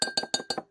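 A fork stirs mug cake batter of crushed chocolate Oreos and milk in a mug, making four quick, evenly spaced ringing clinks against the ceramic, close and clear with no talking.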